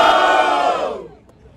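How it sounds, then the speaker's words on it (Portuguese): Crowd at a Brazilian street rap battle in Itaquera roaring with cheers and shouts, loud and dense at first, then fading away over the last half second. "Barulho para quem gostou das imagens de Milhouse!"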